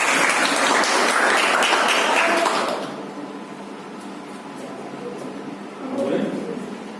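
Loud applause from an audience at a felicitation ceremony for top class 12 students, dense clapping for about three seconds before fading into quieter room sound and murmuring.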